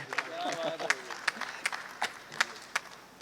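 Scattered applause from a mushaira audience welcoming a poet, sounding as sparse, uneven claps with speech-like sounds mixed in over a quiet hall.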